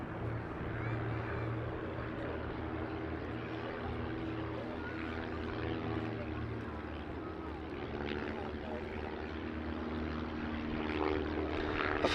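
Piper L-4 Grasshopper propeller aircraft flying at a Duxford D-Day 80 airshow, a steady droning engine hum holding throughout with slight swells, mid-distance and continuous, mixed with faint crowd and background noise.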